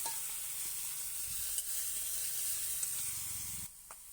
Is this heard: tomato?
yes